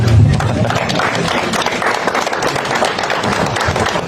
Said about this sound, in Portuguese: Palmas para o Diniz, né?